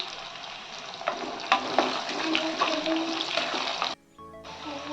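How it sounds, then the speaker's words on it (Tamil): Small shallots, garlic and two green chillies crackle and sizzle in hot oil for a fish curry, with occasional spoon knocks, then a brief drop-out before the sizzle resumes; no speech. "இப்போது சின்ன வெங்காயமும் பூண்டும் சேர்த்துக்கலாம் இப்போது ரெண்டு பச்சை மிளகாய் சேர்த்துக்கலாம்"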